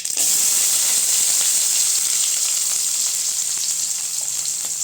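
Onions fry in hot oil with a loud, close hiss that holds steady for the whole stretch, broken by small pops and crackles.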